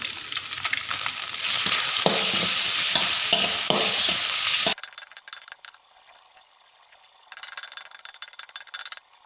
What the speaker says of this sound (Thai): เราทำการผัดปลาให้สุกก่อนครับผม ผัดไปเรื่อยๆครับ ปลาหมึกดองลงไปครับผม